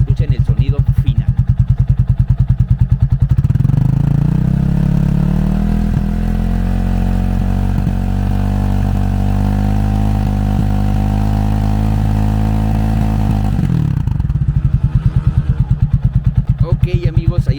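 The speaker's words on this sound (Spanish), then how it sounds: "Vamos a acelerarlo entonces a altas revoluciones para que ustedes escuchen el sonido final" An Italika 250Z motorcycle, its loud exhaust revving hard and holding high RPM for about ten seconds between rougher idle-like stretches at the start and end.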